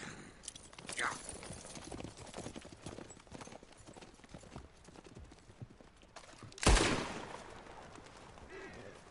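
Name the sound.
horses riding off, from video game Red Dead Redemption 2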